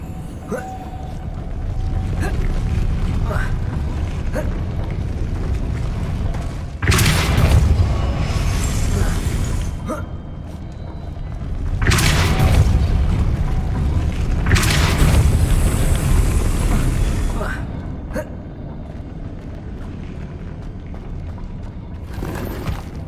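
A Depulso spell cast in Hogwarts Legacy, played on hard mode, sets off deep booming force blasts that swell and fade in a few heavy bursts over a constant low game rumble.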